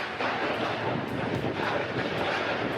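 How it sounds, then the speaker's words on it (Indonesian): Strong whirlwind storm winds sweep through Tiban, Batam, in the Riau Islands, making a loud continuous roaring rush with buffeting gusts across the microphone. "Suasana dramatis terjadi saat angin kencang menerjang kawasan Tiban, Batam, Kepulauan Riau, Senin siang."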